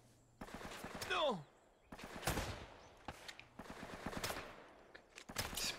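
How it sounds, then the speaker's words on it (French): Gunfire aimed at the player in Uncharted: Drake's Fortune, heard as quiet bursts of rapid automatic shots in repeated clusters with whizzing ricochets, fairly faint and distant-sounding. "C'est bel et bien sur moi que ça tire."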